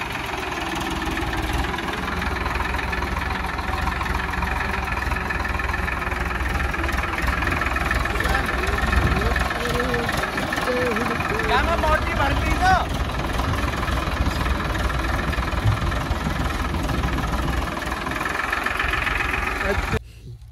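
A Farmtrac 60 tractor engine runs steadily at close range, a continuous low rumble that lasts the whole stretch, with people talking over it.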